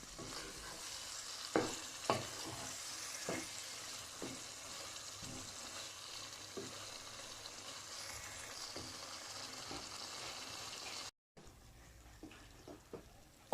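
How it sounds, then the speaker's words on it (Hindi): Ojri, or tripe, fries in a pan with a faint, low sizzle and occasional soft stirring knocks spread through, a brief dropout near the end, and no talking. "पाँच मिनट के लिए हम ओजरी की अच्छी तरह भुनाई कर लेंगे।"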